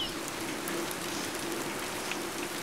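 Steady rain falls during a nature trip into the forest, a continuous soft hiss of drops on surfaces, evenly loud throughout with no voices.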